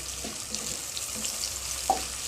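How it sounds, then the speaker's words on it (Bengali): Onions frying in oil in a pan for plain pulao, giving a continuous bright sizzle and hiss, with a few soft clicks and spatters close by. "পেঁয়াজটা যতক্ষণ না পর্যন্ত হালকা নরম হয়ে আসছে ততক্ষণ পর্যন্ত এটা ভাজতেই হবে"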